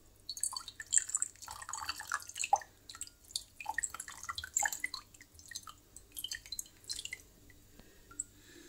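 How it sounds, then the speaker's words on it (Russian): Hot water poured from a kettle over a waxed apple, irregular light splashes and drips in a quiet room, soft and close. "Процесс поливания яблочка"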